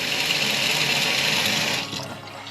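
Cold water gushing from a bathroom faucet in a Jayco Eagle RV with a water pressure problem, a strong steady hiss close by that tapers off in the last half second.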